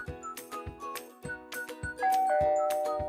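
A Skybell video doorbell plays its chime: a quick run of bright, ringing electronic tones struck in a steady rhythm, ending on a sustained note. The sound is clear and close, with no voices.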